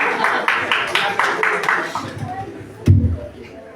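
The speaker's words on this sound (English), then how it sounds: "A big round of applause for this." Audience applause breaks out at a motivational talk on positive attitude and leadership, a short burst of rhythmic group clapping that fades out over a couple of seconds, followed by a thump.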